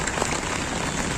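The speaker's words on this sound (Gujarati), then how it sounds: "અત્યારે વરસાદ ફરીથી શરૂ થઈ ગયો છે" Rain pours down on the Rajkot Lok Mela fairground, with stalls shut and the ground flooded, making an even, dense hiss throughout a short stretch, no voices.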